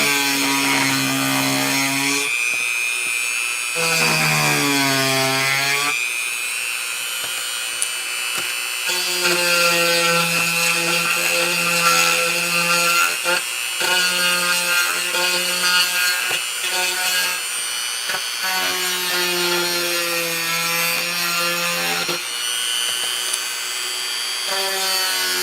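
Power drill carving into wood, a high, harmonic whine that rises and falls in repeated bursts with short pauses between them, close and alone without talk.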